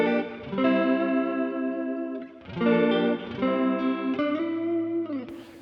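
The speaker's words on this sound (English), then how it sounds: "here's our guitar sound" A clean electric guitar tone through a warm combo amp model in MPC 3.0 strums a few sustained chords with bright ringing overtones, close and alone.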